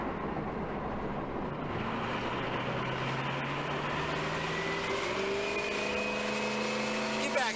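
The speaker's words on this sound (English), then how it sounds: "This truck's loud." A loud truck engine drones steadily while driving, with rising and falling gear tones sweeping upward, and people talk over the road noise.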